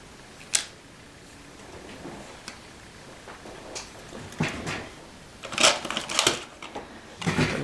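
Paper is trimmed for a two-page scrapbook spread, heard as a run of quiet close clicks, slides and snips, growing busier and crisper toward the end.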